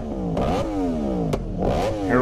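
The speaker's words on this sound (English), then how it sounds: "Here we go with the revving." Motorcycle engine revving on a nighttime street ride, rising and falling in two surges with a brief sharp pop between them, loud and fairly close with no talk.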